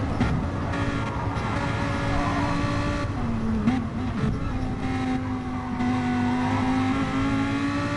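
A Lamborghini supercar in a racing video game, its engine held at a steady high drone that occasionally dips and climbs in pitch, with other cars faintly audible around it.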